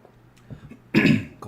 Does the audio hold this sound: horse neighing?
no